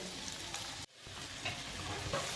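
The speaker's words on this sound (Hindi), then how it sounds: "ये 3 से 4 प्याज है और इनको हल्का सा ब्राउन करते हैं।" Sliced onions, three to four of them, sizzle and fry steadily in hot oil in a pan, a constant crackling hiss with a brief dip midway before the sizzle resumes, close and fairly loud.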